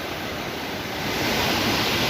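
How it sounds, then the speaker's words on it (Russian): Steady roar of a waterfall beside a river near Lake Teletskoye, a dense continuous rush of falling water that swells slightly louder partway through, close and enveloping, with no voices. "Вот такой водопад."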